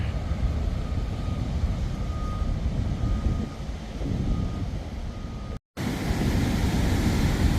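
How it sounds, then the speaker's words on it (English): Dramatic ocean surf at Muxia on the Galician coast, a loud, continuous broadband roar of breaking waves close by that carries on steadily, with one brief cut to silence partway through before it resumes. "I think this is the most dramatic surf I've seen on the trip so far."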